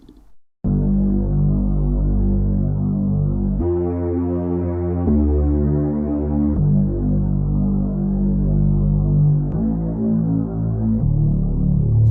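A thick, growling Moog synth bass plays a slow sequence of sustained notes, heavy and throbbing, with no other sounds.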